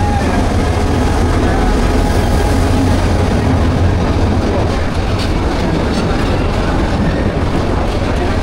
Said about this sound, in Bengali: অবশেষে আমার কিশোরগঞ্জ এক্সপ্রেস চলে আসলো।